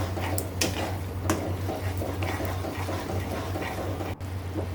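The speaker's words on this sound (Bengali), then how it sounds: "আমি নাড়াচাড়া দিচ্ছি।" Low-heat stirring of mango pickle seasoned with panch phoron in a pan: soft scraping and occasional light clinks of a utensil against the pan over a steady low hum, fairly quiet and without talk.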